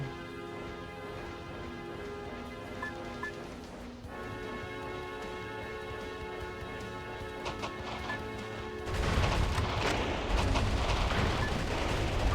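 Explosions and gunfire in the video game Metal Wolf Chaos XD while battling a cannon, a dense continuous barrage under a droning game soundtrack that swells into louder blasts near the end.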